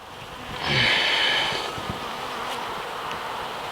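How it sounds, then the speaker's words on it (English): Honey bees buzzing around a fallen tree during a removal, a swelling close buzz that peaks for about a second and then settles into a steady, fainter hum of insects. "Get out of the way, bees."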